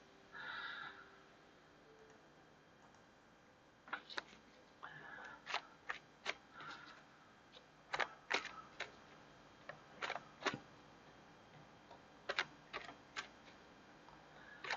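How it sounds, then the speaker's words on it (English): A tarot reader spins a small prize-style wheel, producing a run of sharp, evenly spaced clicks that start fast and irregular, then slow and spread out before stopping, with faint card shuffling at the start and no talking. "I should probably spin the wheel while I do this."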